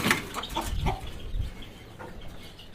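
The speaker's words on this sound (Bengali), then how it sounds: "সবগুলো একদম পিওর দেশি মুরগি।" Native desi hens cluck close by in a coop, a series of short, uneven bursts of clucking and chatter, loud and without talking.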